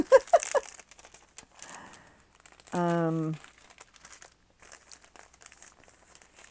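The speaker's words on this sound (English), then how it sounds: "Excuse the crinkling. I have a bag of bags." Plastic bags from inside a bag of bags crinkle and rustle in close, intermittent bursts, with a brief voice sounding partway through.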